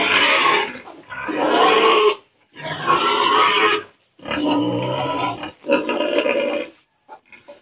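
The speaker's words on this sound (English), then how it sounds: "You're a good pig" Pigs grunting and squealing at feeding time, loud and close, in several long noisy bursts with short pauses between them.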